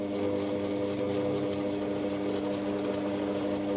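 A DC treadmill motor converted to drive a mini lathe runs forward at steady speed, giving a continuous motor whine with a strong hum, close and unbroken, with no voices.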